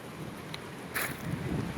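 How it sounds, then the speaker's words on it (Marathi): Strong wind from a cyclone sweeping over a village in Korta, a steady rough rush buffeting the microphone with a brief louder gust midway, no voices. "हवा वारा चक्रीवादळ सुरू आहे"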